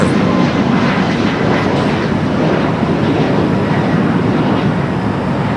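A British Airways Boeing 777-300ER at LAX, arriving from London Heathrow, makes a loud, steady engine roar that fills the whole stretch without talk.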